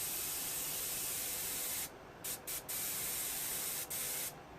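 Steady hissing spray from a dual-action airbrush spraying pale gold paint, briefly cut off several times in short gaps, then resuming; close and fairly quiet.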